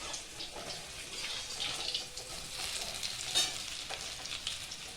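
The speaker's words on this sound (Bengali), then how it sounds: "এই যে দেখুন আমার আলুগুলো লাল লাল হয়ে ভাজা হয়ে গেছে" Potatoes fry in oil with a crackling sizzle, close but fairly quiet, with bursts of spattering and stirring scrapes and no one talking.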